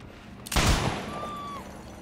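One sharp, loud gunshot from the Deathslinger killer in Dead by Daylight Mobile cracks out, followed by a short ringing tail and a thin whistling tone that fades away.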